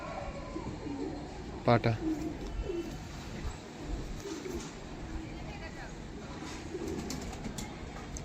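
Pigeons with broad and narrow scissor feathers coo softly in the background of a loft sale, someone talking over them throughout with a brief louder sound midway.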